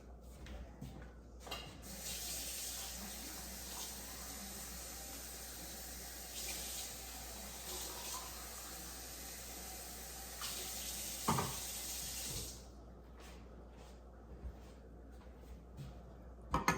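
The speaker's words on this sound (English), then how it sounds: "But what I need to do is 2 cans of water." Water runs steadily from a tap for about ten seconds, a constant hissing splash, filling a can to measure water for a cooker recipe, then shuts off followed by a few small clinks.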